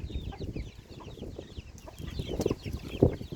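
Hens cluck softly at close range, with irregular short calls and a couple of sharper squawks near the end, the flock low and steady throughout.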